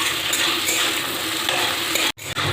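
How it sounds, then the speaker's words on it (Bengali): Onions fry in a pan with a little salt for ghugni, giving a loud, close, continuous sizzle and crackle. A brief sharp cutoff comes near the end, and no one talks. "এবার পেঁয়াজটাকে একটু ভেজে নেব"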